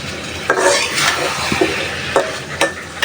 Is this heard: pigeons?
no